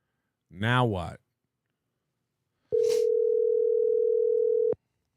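A short vocal utterance is followed by a click and a steady unbroken telephone tone lasting about two seconds that ends in another click. The line does not ring in repeating bursts.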